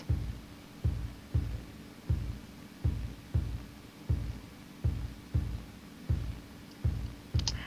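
A rap backing track drum beat pulses with steady, evenly spaced bass drum notes, a soft low thud repeating about once a second, moderately quiet with no talking.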